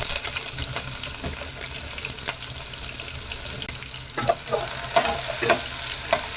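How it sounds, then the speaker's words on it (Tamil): Long-sliced onions frying in hot oil with curry leaves, a soft continuous sizzle broken by clustered scraping stirs that grow busier toward the end, close up. "2 பெரிய வெங்காயத்தை நீல வாக்கில் கட் பண்ணி போட்டுக்கலாம்."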